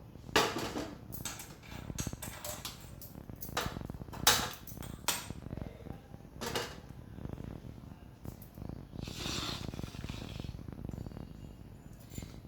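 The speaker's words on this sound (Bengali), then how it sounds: "এবার আমি কড়াইটা বসাবো" A cook in a home kitchen clanks a metal wok onto the stove amid scattered knocks and rattles of pans and utensils, some sharp and close, others softer. Quieter clatter follows.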